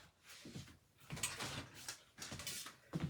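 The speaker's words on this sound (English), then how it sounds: "let's bring in our cut and emboss machine" A cut and emboss machine for card making runs quietly, giving rhythmic mechanical rolling and clunking as the plate feeds through, close and soft, with no voices.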